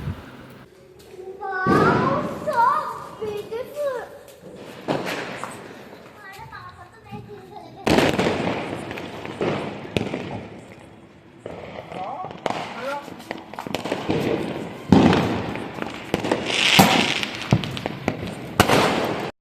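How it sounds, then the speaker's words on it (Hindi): Firecrackers and fireworks set off on a rooftop during Diwali, with repeated sharp bangs and crackling bursts spread through the clip, some loud and close, while children and adults talk and shout throughout. "तो जी हम आ गए हैं तीनों सबसे ऊपर वाली छत पर और तीनों पटकाने लगे हैं पटाखे"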